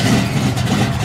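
The 700 horsepower engine of a classic Chevrolet Nova rumbles loudly and continuously at close range, a brief burst of deep idling roar.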